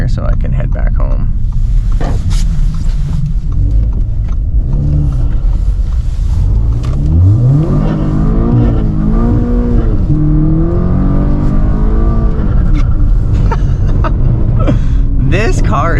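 Engine of a tuned 420 hp Audi S3 making a U-turn on a snowy road, heard from inside as a steady drone with rising and falling revs under someone talking.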